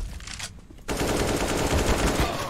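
Rapid automatic gunfire from a shooter video game, a dense continuous burst that erupts loudly after a brief quieter lead-in and keeps going to the end, with no voices over it.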